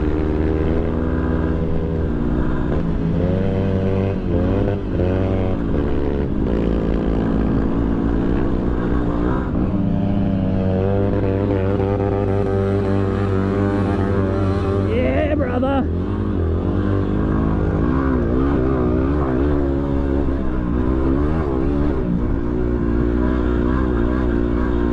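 A Yamaha WR250R motorcycle rides through soft sand in the Simpson Desert, its engine droning loud and continuous with rising and falling revs and constant wind rush, while a voice talks over it.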